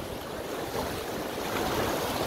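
Sea waves surge and wash against a rocky shore at Porthor, a continuous close rush of white water with wind buffeting the microphone and no voices.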